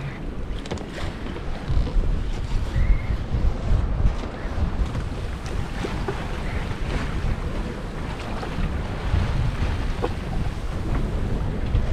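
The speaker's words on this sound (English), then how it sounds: "We're having winds around 17-18 knots and up to 21-22 in the gusts." Strong wind of 17-18 knots, gusting to 21-22, buffeting the microphone on a sailing boat at sea, with continuous rushing noise and waves splashing around the boat, no talking.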